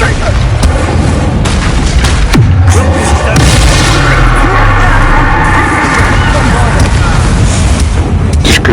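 In the video game Hogwarts Legacy, the Bombarda explosion spell goes off as a heavy boom inside a loud, dense mix of combat sounds, with bangs and crowd-like noise running throughout.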